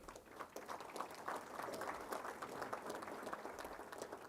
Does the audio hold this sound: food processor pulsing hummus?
no